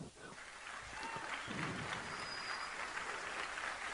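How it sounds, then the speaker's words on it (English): A graduation ceremony crowd applauds steadily, a dense wash of clapping heard from some distance, swelling slightly after the first second and continuing throughout. "They're all applauding."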